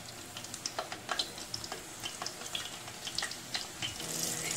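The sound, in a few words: eggplant frying for taameya sandwich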